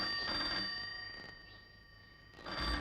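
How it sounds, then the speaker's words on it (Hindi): An old landline telephone in a 1966 bungalow in Chembur rings in two short electronic bursts, one at the start and one at the end, with a quieter gap between. "तभी उनके घर का टेलीफोन बजा।"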